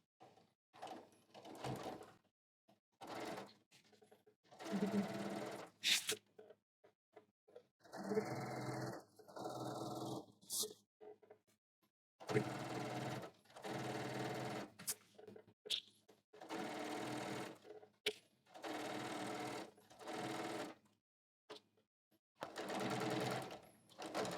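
A sewing machine stitches fabric close to the edge in short, rapid runs, with several separate bursts of whirring stitching separated by brief pauses, loud and near.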